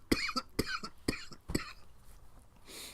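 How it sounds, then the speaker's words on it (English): A person coughs after smoking a blunt, four sharp, close hacking coughs in quick succession, followed by a softer breathy exhale. "about to cough."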